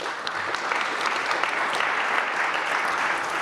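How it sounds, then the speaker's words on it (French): An audience at a university conference session applauds with dense, sustained clapping that holds steady for the whole stretch, with no voices over it. "je pense qu'on peut les applaudir à nouveau"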